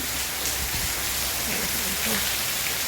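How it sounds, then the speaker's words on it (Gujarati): Heavy rain pours down in a dense, constant hiss, loud and steady throughout, with faint drips and splashes mixed in. "બહાર જોઈ શકો છો કેટલો મસ્ત વરસાદ પડી રહ્યો છે"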